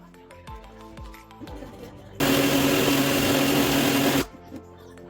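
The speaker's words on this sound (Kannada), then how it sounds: "ಈಗ ಚಟ್ನಿ ರುಬ್ಕೊಂಡಿದ್ದಾಯಿತು" A mixer grinder grinds peanut chutney with garlic, mint, coriander and salt, a loud whirring roar that starts abruptly after a few soft clicks and handling knocks, runs for about two seconds, then cuts off.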